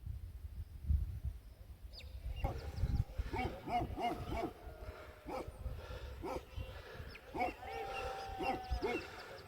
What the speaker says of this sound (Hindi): बकरवालों का कुत्ता आया